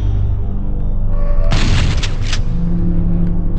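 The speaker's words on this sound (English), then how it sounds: "I haven't used a single shotgun in a while. A single barrel shotgun." A single barrel shotgun fires once in Doom 64, a loud, sharp boom bursting over a low droning game backdrop before trailing off quickly.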